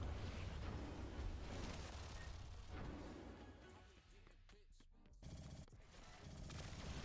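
Video game gunfire rattles in dense, loud bursts of rapid shots, with a player talking over the shooting before a brief lull and another volley.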